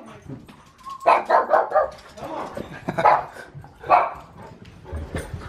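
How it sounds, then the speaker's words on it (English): Several dogs barking and yipping in bursts at close range in the Colorado outdoors during an elk hunt, with people talking alongside. "I got so many dogs."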